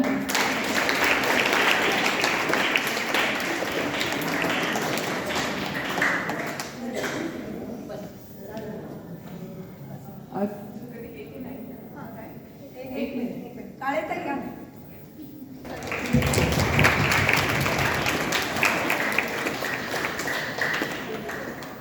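An audience at a children's school prize-giving claps for a student: dense applause fills the opening seconds, gives way to talk, then returns loudly near the end.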